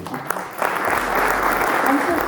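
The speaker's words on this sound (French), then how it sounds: "Je crois qu'on peut toutes et tous l'applaudir" Audience applause for a boxer at a club ceremony in Yutz, a broad steady wash of clapping that swells after a brief start and carries on evenly, with a voice briefly heard early on.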